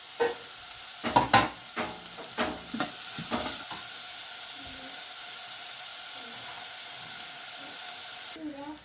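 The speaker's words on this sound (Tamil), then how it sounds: "நாங்கள் வந்து வெட்டி வச்சிருக்கிற வெங்காயத்தையும் இதை போட்டு வதக்கணும்" Chopped onions sauté in a pan for Tamil-style cauliflower varai, with a soft steady sizzle and hiss under a few sharp scraping and stirring clatters early on, heard close and fairly quiet.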